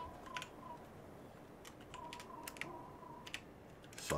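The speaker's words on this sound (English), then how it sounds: "I hear lots of furious clicking." Rapid, furious clicking on a computer keyboard during an Ark Survival Evolved session, sharp irregular keystrokes in quick bursts, fairly faint over a low room hiss, with a louder clatter at the very end.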